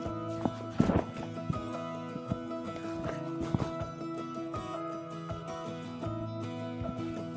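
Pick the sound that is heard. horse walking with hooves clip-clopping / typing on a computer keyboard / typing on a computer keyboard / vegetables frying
horse walking with hooves clip-clopping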